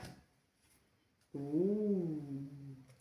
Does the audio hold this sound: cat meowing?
yes